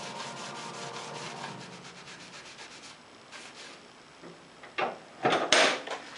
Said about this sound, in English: Rub a little urethane on there.